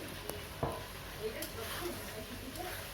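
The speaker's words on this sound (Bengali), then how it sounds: "আলু দিয়ে খুব ভালো করে নাড়াচাড়া করে কষে নিয়েছি" Fried potatoes being stirred into a spiced cauliflower curry in a pan, giving soft scraping and light sizzling with a few sharp utensil clicks, fairly quiet and close.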